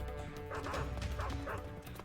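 A dog barking in the video game Metal Gear Solid 3, a few quick yapping barks in a row over a dense game soundscape, moderately loud.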